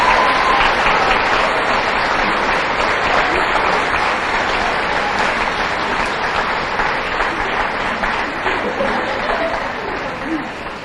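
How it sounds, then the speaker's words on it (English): Applause from an audience at a St. Patrick's Day pageant for the young lady contestants, dense and sustained clapping with scattered chuckles, steady throughout and slowly tapering at the end. "Maybe one last round of applause for all the young ladies."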